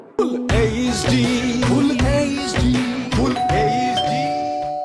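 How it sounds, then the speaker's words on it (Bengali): A melodic electronic doorbell chimes repeatedly and loudly, its two-tone ding-dong pattern cycling over and over, close and clear with no talk. "কলিং বেল বাজছে তো, আমি কি দরজা খুলবো?"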